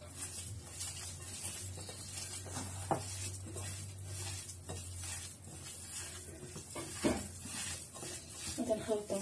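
A spoon stirs chopped onion in a sizzling pan, steady scraping and gentle frying crackle running throughout with a low hum beneath and a few louder clinks of utensil against the pan near the end.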